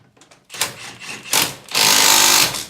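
A Milwaukee Fuel 3/8-inch stubby impact wrench in reverse breaks a bolt loose, giving short buzzing bursts that build into a sustained, loud hammering rattle near the end, close to the listener.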